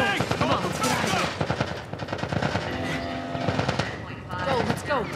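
Sustained automatic gunfire in a shooter game, dense rattling bursts mixed with shouted voices and battle noise throughout.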